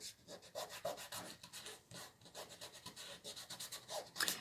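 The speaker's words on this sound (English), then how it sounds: "now I'm just going to press this down with my fingers" Fingers press and rub a Chalk Couture transfer sheet down onto a Christmas tier tray ornament cutout, giving a close, soft, continuous scratchy rubbing with repeated short strokes and no voices.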